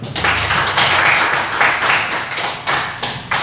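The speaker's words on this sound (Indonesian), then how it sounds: "Tepuk tangan dulu." Classroom students clapping hands in short uneven bursts, several loud clusters of claps with brief pauses between them, fairly close.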